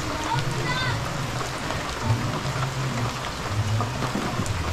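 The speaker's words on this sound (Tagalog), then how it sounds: "Biglang umulan, ayan oh." Sudden rain falling outdoors, a dense, steady patter of drops on surfaces with a low rumbling undertone running throughout.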